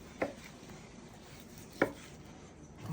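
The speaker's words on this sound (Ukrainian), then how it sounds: "нарізаємо гаряченьку під черевинку" A knife cuts through hot pork belly at a meat restaurant, with two sharp, separate chops on the board over a quiet background and nobody speaking.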